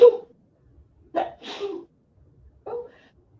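A sharp sneeze set off by pepper bursts out first, followed by a few short breathy exhalations and a final quieter huff, close and clear against silence.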